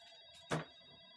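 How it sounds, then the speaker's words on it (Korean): Telephone ringing in a cooking setting, one short bright ring burst standing clearly above a quiet background. "전화 왔어요."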